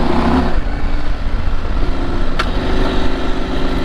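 Norden 901 adventure motorcycle engine crawling slowly in second gear over bumpy off-road terrain at an OHV park, a steady low rumble with wind noise and a brief sharp clatter partway through.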